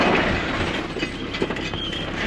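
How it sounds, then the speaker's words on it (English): A motorhome mounting a curb on a street in Marseille, the whole van rattling and shaking in a loud, continuous clatter with sharper knocks toward the end. "The rattling in our moho was incredible."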